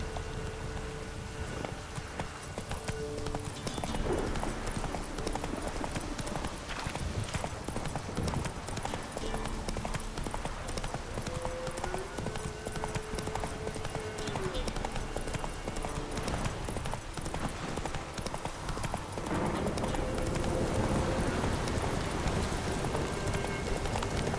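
Steady hoofbeats of Geralt's horse Roach clop along in The Witcher 3, a continuous trotting rhythm under ambient game music with a faint voice briefly present.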